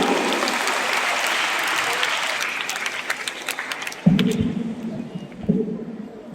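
An audience at a Hindi poetry gathering gives loud, sustained applause for about four seconds, then it fades out as a few thumps and a brief voice sound from near the stage.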